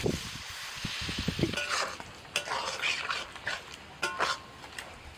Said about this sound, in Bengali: এবার জল ঢেলে দিচ্ছি